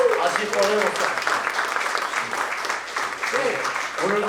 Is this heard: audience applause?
yes